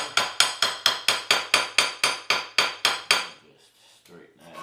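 A small hammer striking metal to straighten a curled end, about a dozen sharp, evenly spaced ringing taps close by, then a quiet shuffle after the blows stop.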